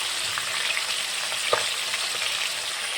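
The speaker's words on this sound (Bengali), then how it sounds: "এই যে মাছটা ভেজে নিচ্ছি।" Chara fish frying in hot oil for a Bengali curry with green banana, potato and herbs, a steady close sizzle with faint stirring and small pops, no talking.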